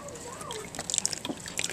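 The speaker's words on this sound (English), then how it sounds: "we're finally starting to get some water coming out the other end here" Water dripping and trickling out the end of a tube or container: soft, scattered drips and small splashes, faint and irregular, with quiet voices in the background.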